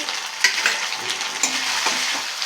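Ginger-chilli paste and turmeric frying in a pan, giving a steady, close hiss of sizzling oil with a few soft stirring scrapes and no voices.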